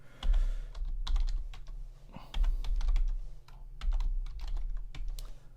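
Quick bursts of clicky keystrokes on a computer keyboard enter commands in a terminal, uneven in rhythm and close by, with a low steady hum underneath.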